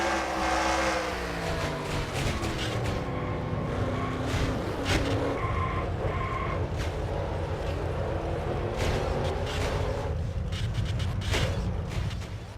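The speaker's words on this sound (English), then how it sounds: "He had to go up against the wall and scrape his car a little bit just to get through." A race car in a racing video game scrapes along the wall at Charlotte, with engine whine and a long grinding, screeching rub over a steady roar.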